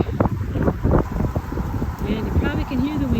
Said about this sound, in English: you probably can hear the wind about right on the banks of the Mississippi here